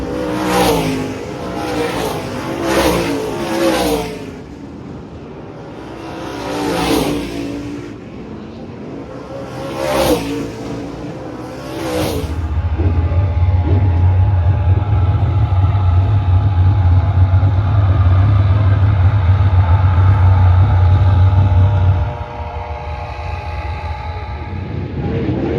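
Race cars rolling out for the opening heat of the 81 Speedway weekly season: sharp clicks and knocks at first, then a loud, steady low engine drone that holds for several seconds before easing off.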